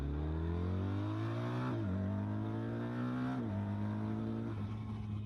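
A BMW R 1300 RT motorcycle engine accelerates hard through the gears. The loud, steady drone climbs in pitch, drops briefly at each of two shifts, then climbs again, with no talk.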